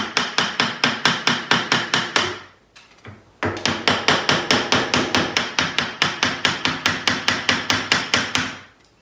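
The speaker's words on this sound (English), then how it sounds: "So you just put this in the vise and you whack the corners off." Steady, rapid hammer strikes on a chisel knocking the corners off wood held in a vise, a quick even rhythm, pausing briefly before resuming, loud and close.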